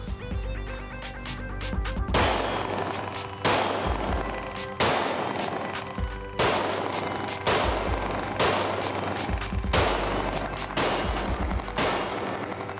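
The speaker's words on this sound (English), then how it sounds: "Let's do 3 shots on all 3 targets." Pistol shots fired at three targets during handgun training: sharp, loud reports in a rapid sequence of roughly nine shots in three groups, each cracking out and echoing briefly.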